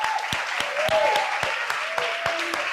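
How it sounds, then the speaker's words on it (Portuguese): Sustained applause from a church congregation, steady clapping filling the space, with voices and a few louder individual claps over it. "Você pode dar um aplauso ao Senhor?"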